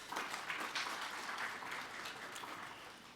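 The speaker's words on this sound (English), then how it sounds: "Yes, another round of applause." Faint applause from a conference audience at a national ICT summit, a soft steady patter of clapping heard from a distance that fades slightly toward the end.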